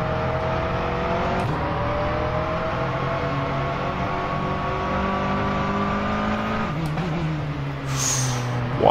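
A race car in the rFactor 2 racing game braking hard, a loud steady engine drone whose pitch falls and shifts as it slows, with brief sharp bursts near the end.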